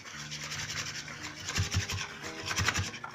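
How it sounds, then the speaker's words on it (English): Whisk scraping and rubbing through a thickening batter of flour, water and a little nutmeg in a bowl for spaetzle, a steady rasping stir that grows busier with quick rhythmic strokes toward the end, with no talking. "On the beginning, I take a whisk until it gets thick."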